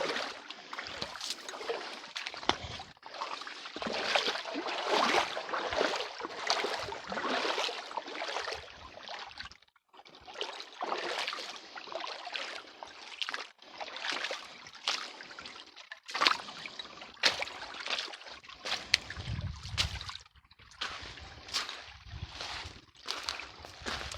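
A small creek trickles and splashes over rocks, with an irregular, close, uneven flow of bubbling water and no talking.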